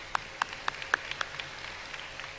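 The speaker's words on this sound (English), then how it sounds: "Let's clap for her anyways" A few separate claps ring out at a high school graduation ceremony, sharp isolated hand strikes spaced unevenly over about a second before trailing off, with no full applause building.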